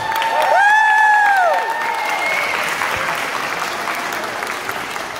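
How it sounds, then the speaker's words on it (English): Audience applause greets a student about to break boards for a 5th-degree black belt test, close and full for about two seconds, then settling into steady clapping and crowd noise with a sustained tone fading at the start. "Would you please give him a big round of applause?"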